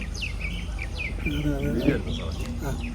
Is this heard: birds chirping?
yes